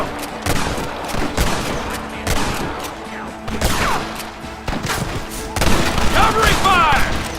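Dense gunfire in a Red Dead Redemption shootout with US Army soldiers, repeated sharp shots and bursts crackling throughout, loud and close, with shouted voices in the mix.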